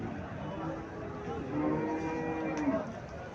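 Indian Brahman cattle at the Chandimura cattle market in Cumilla: a low, drawn-out moo rising from the busy market's background murmur, partly under faint nearby talk.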